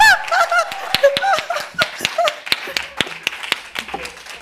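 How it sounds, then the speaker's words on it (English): A small audience at a museum festival forum claps for a contestant: sparse, scattered hand claps with some laughter and murmuring voices mixed in, fairly close and fading toward the end. "Round of applause, please, if Miss Irene Tsung should win!"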